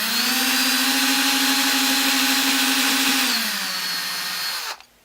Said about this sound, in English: I'm using a 5/64 drill bit because we don't want to crack the wood